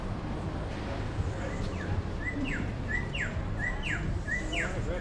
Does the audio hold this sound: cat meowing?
no